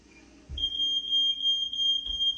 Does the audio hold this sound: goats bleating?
no